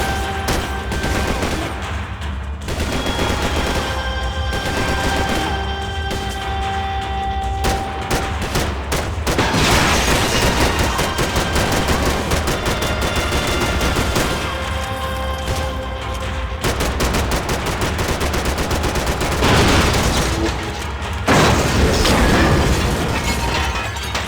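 Gunfire from Max Payne 3 in a police-station shootout, with bursts of fusillade and machine-gun fire rattling continuously alongside mechanical clanks and shattering debris, loud and dense throughout with no voices.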